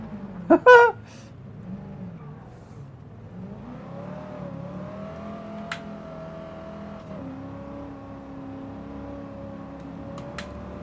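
Racing-game car revving while stuck in gravel, the engine note rising and holding in a long strained whine after a brief burst of louder noise, with no talk.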